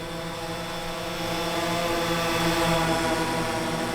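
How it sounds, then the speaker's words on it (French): A drone flies in with a steady, buzzing engine whine that swells a little louder as it nears, holding an even tone throughout. "Il arrive par drone."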